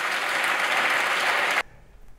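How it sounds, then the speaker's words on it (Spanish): PSOE members applaud in the Spanish parliament, a dense sustained burst of clapping that cuts off abruptly near the end, leaving near silence. "Aquí todos los del PSOE aplaudiendo"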